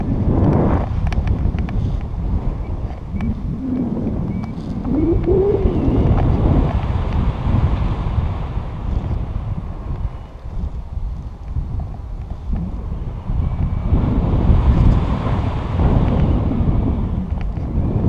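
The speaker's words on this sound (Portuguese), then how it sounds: "Normal esse vento, assim?" Strong outdoor wind buffeting a microphone during an open-air session, a loud continuous low roar that swells and dips across the whole stretch, with no voices over it.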